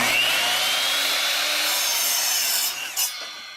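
A handsaw cuts off excess wood while building a skateboard halfpipe, giving a steady, close rasping stroke that runs for about three seconds and then breaks off in a couple of short scrapes.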